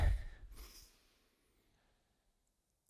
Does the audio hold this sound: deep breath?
yes